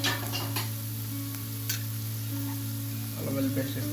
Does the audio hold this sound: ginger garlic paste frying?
yes